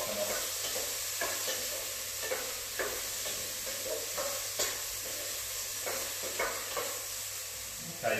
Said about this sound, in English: just turn the heat down a little bit, just to let it simmer.